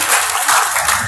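An audience at a spiritual talk breaks into brief, loud applause, a dense and even wash of many hands clapping that lasts just over a second.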